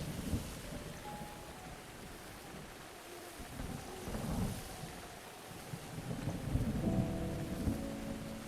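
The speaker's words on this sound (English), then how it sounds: "there's this massive rainstorm going on" A heavy rainstorm with rolling thunder in the video game Breath of the Wild, a steady wash of rain with low rumbling swells and some wind noise throughout.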